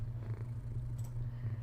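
A cat resting on a computer keyboard purrs steadily and close, a low continuous rumble with a faint higher sound briefly overlapping partway through.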